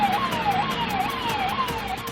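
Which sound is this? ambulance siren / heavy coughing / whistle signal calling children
ambulance siren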